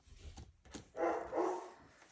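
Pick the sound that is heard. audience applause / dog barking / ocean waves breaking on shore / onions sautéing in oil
dog barking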